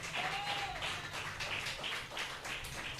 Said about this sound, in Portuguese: Palmas para Cristo Jesús.